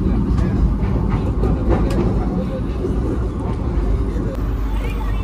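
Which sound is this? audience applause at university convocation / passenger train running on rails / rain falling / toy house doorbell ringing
passenger train running on rails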